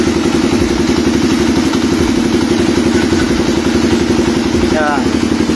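A rebuilt RKS 150 motorcycle engine idles close by, a steady rapid thumping putter with mechanical clatter, loud and continuous throughout.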